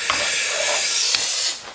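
Sun-dried tomato pasta sauce with onions, chili and tomato puree stirred in a pan, a steady hissing simmer with a couple of brief scraping strokes, close and fairly loud, no voices.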